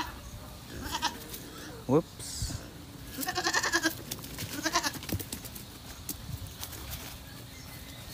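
Goats on a small provincial goat farm bleat in several short cries, one loud and close, others in rapid bursts, with a person talking briefly nearby.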